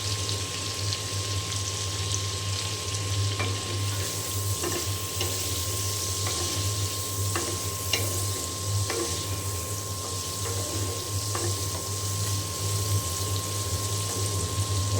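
Pointed gourd pieces seasoned with turmeric fry in a pan, giving a steady, dense sizzle with faint scattered crackles and occasional light utensil taps throughout.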